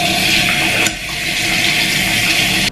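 Water runs steadily and loudly from a tap, rinsing bleach out of hair at home, a continuous hiss with a brief dip partway through and no voices.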